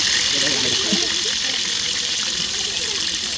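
Water gushes steadily as it is drained from a cooking pot, a loud continuous pouring rush close by with a voice faintly underneath.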